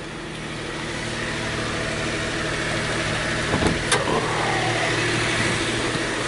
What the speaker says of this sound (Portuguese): Esse barulho do motor aí é muito comum